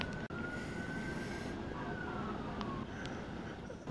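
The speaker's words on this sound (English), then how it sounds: "And ambulances are coming from all different directions." Police cars and ambulances passing with wailing sirens during a tornado in Pensacola, a gliding siren tone rising and falling under a steady roar of wind and traffic, heard through an open window.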